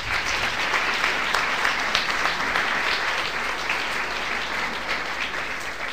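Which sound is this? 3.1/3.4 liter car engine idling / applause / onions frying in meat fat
applause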